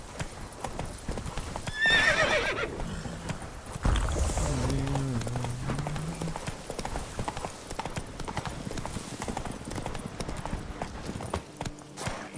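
Roach the horse in The Witcher 3 trotting with steady clip-clop hooves, neighing loudly partway through, hoofbeats continuing close and rhythmic throughout.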